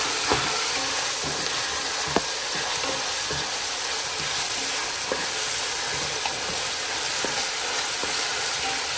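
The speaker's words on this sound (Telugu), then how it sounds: "ఇక్కడ ఉల్లిపాయలు వేగుతున్నాయి" Onions fry in hot oil with a steady, dense sizzle and crackle, broken by a few soft clicks of stirring.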